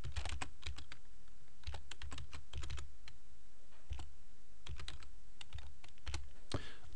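Keystrokes on a computer keyboard as search keywords are typed into a WordPress SEO plugin field, coming in quick irregular bursts of close, crisp clicks with short pauses between words, and no voices.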